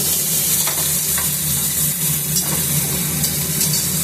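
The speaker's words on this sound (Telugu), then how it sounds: "ఇప్పుడే అది వేసాక ఉల్లిపాయలు, పచ్చిమిర్చి వేసుకోవాలి. మిక్స్ చేసుకోవాలి." Onions and green chillies stirred in a frying pan of hot oil, a loud, steady sizzle with close scraping spoon strokes running continuously.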